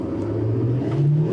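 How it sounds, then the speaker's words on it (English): The 2020 Chevrolet Silverado HD diesel engine gives a low, steady drone that rises slightly in pitch as the truck accelerates, heard close and alone for a brief moment. "this engine definitely has some of the diesel clatter"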